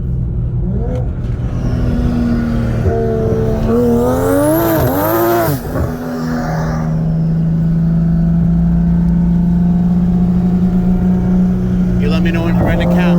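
A turbocharged BMW M4 on E85 and meth and a Toyota Supra with a PT6870 turbo run a 60 mph roll race: engines rev up in rising sweeps, then one holds a loud steady drone nearby.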